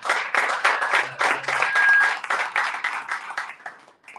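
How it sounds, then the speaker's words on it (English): An audience at a startup graduation ceremony claps steadily, a dense round of applause that carries on for several seconds before thinning out at the end. "let's clap. Let's clap."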